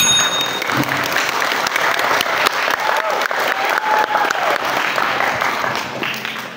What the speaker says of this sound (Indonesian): Kita beri tepuk tangan kepada kedua tim yang telah bertanding dengan penuh semangat.